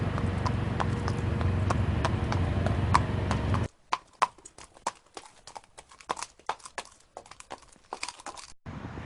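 Horses' hooves clip-clop on pavement near old carriage stables beside an omnibus ticket office, with steady traffic-like noise at first, then sharper, scattered hoof strikes standing out alone at close range.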